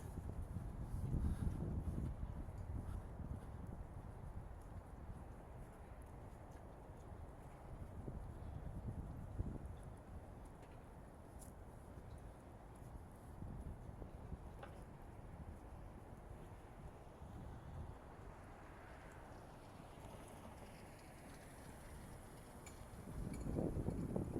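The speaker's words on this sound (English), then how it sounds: "Good illustration of the amount of wind I've been dealing with tonight." Strong wind buffets the microphone on an evening sunset walk along Grand Rapids' Medical Mile, a continuous low roar with louder gusts near the start and end and no voices.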